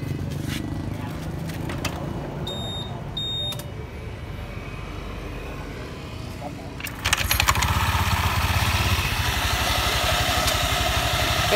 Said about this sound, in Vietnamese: Rồi giờ nổ máy đi em.